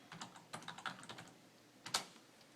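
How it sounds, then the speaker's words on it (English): Quiet close typing on a computer keyboard, a quick run of soft key clicks with a short pause and one firmer tap near the end. "say if I type in home health,"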